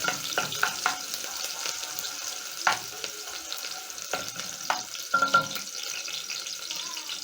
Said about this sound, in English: Stir and cook until the onions are soft.